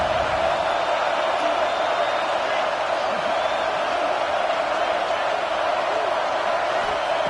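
A loud, dense roar from a large stadium crowd at an American football game on third down, steady and sustained throughout, with cheering blended into a constant wall of noise.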